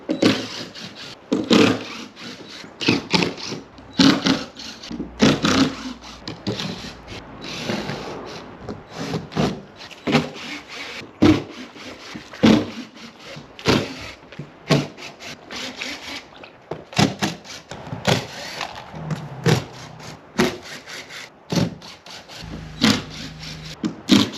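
Wooden kick plate boards of a DIY outdoor rink being pried and pulled off, repeated loud creaking, scraping and knocking bursts in an irregular rhythm, close by.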